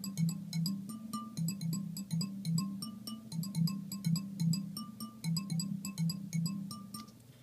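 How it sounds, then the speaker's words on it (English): A synthesized marimba patch from Ableton's Collision instrument plays a steady run of quick mallet-like notes, evenly paced and fairly flat in tone, with a soft room tail. "the patch I came up with was through Ableton's collision instrument"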